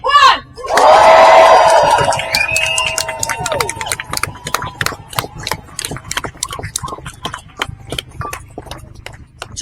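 A large crowd bursts into loud cheering and whooping, then settles into sustained rapid clapping mixed with scattered shouts.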